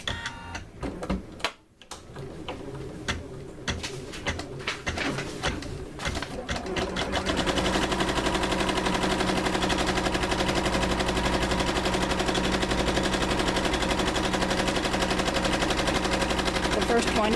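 A Janome MB multi-needle embroidery machine stitching an applique starts up after a few clicks and handling noises, then settles into a loud, steady, rapid mechanical chatter that runs continuously to the end.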